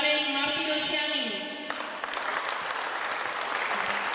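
An audience at a powerlifting championship ceremony in Hrazdan bursts into loud, sustained applause for a team coach, the dense clapping taking over after someone speaks.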